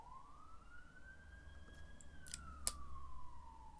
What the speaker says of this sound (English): the sirens just appear outside my door